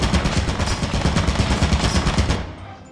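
Rapid automatic turret fire from Lethal Company, a dense, loud stream of sharp shots in fast rhythm that keeps going for over two seconds before cutting off.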